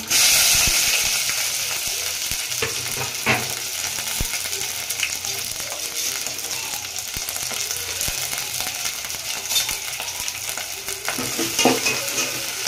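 Chopped onion, green chili, curry leaves, cumin and chana dal frying in a pan for vegetable sambar, a loud continuous sizzle with stirring scrapes throughout, close and without talk.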